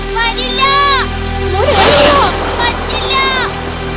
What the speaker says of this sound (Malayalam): നോക്കിയേ, മഴ വല്ലാതെ പെയ്യുന്നുണ്ട്.